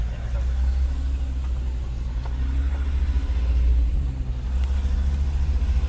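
A 4x4 truck in 4Lo gear rolls down a very steep slope under engine braking, giving a steady deep low rumble and drone with faint road noise throughout.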